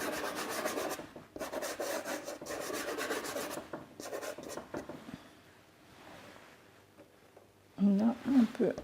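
Sennelier soft pastels scraped and rubbed, giving bursts of gritty rasping strokes at close range with pauses between them, then a brief stretch of speech near the end.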